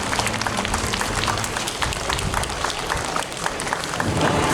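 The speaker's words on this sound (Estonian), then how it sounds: "Teeme aplausi" At an outdoor county fair and exhibition, a crowd claps for a prize winner, a busy continuous patter of many hands with some background murmur underneath, steady at moderate loudness.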